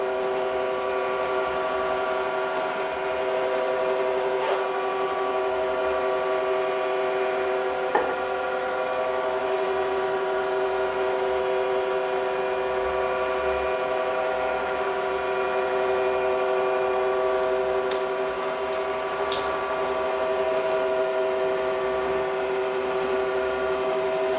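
Drilling machine running under power feed for reaming, a steady tonal motor whine with even mechanical hum holding throughout, joined by a couple of faint clicks, with no talking.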